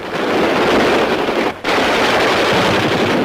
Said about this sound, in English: On the firing range, they try out the latest machine guns.